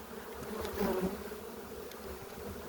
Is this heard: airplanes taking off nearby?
no